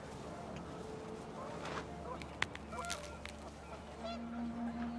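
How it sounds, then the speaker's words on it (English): Panicked geese honk in a video game scene as wind picks up, a flock of overlapping calls rising and falling over steady background noise, with a sharp click partway through. "wind picked up and panicked geese appeared and quickly went"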